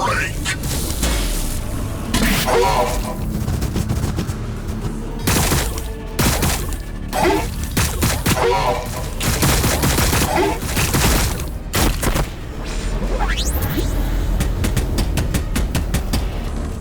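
Sustained gunfire from overwatch in the Warhammer 40k Battlesector video game comes in repeated loud bursts and sharp cracks, with explosive hits mixed in and a narrating voice running over the din.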